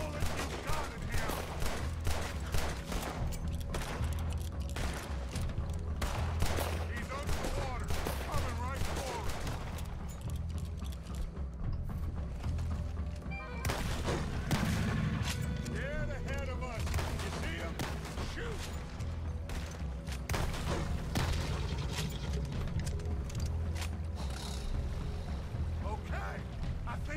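Gunfire in the video game Red Dead Redemption 2, with rapid repeated shots cracking in clusters over a sustained firefight. Voices talk intermittently among the shots.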